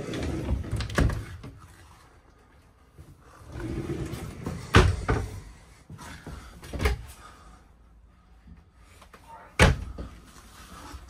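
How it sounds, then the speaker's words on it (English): A pocket door slides and bumps in the bathroom of a 2023 Lance 1985 travel trailer, with several knocks, rolling scrapes and a few sharp clacks spread out and separated by quiet gaps. "Pocket door right here for the bathroom."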